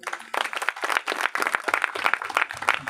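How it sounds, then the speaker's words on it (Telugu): An audience at a church servants' conference in Palakollu claps in brief, uneven bursts, a scattered patter of hands close by that continues without pause for a few seconds. "ఒకసారి చప్పట్లు కొట్టండి"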